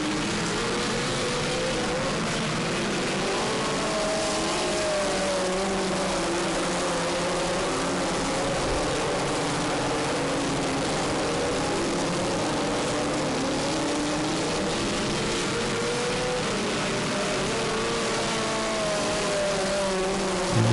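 A pack of race cars running three and four wide into the first turn on a restart at an oval track in New England, a steady distant roar of many engines with shifting pitch throughout.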